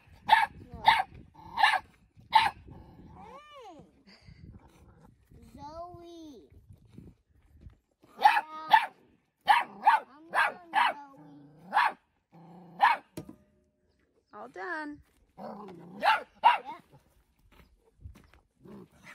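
A dog barks in sharp bursts, some in quick runs of three or four and others alone, alongside a voice and a low growl, close by on a farm with cows.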